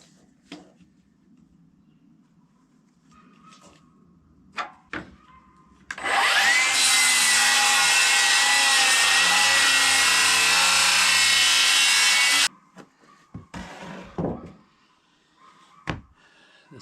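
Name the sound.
resawing wooden boards from a milled log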